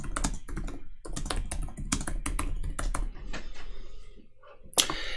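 Rapid clicking of keys on a computer keyboard as a question is typed into a Mailchimp survey form, a steady run of close, crisp keystrokes with brief pauses and one sharper click near the end.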